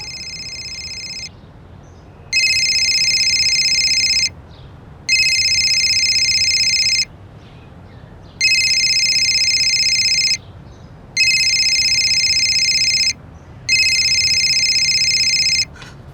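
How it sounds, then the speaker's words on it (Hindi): An electronic phone ringtone rings five times in steady bursts of about two seconds with short pauses between, loud and clear, with no talking. "मम्मी की फोन की रिंग तो अंदर से आ रही है।"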